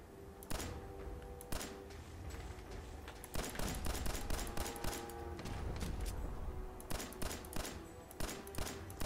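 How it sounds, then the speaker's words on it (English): Rapid gunfire from a pistol loaded with explosive rounds in a video game, sharp bursts repeating irregularly throughout over a busy game soundscape. "because the pistol has the explosive rounds"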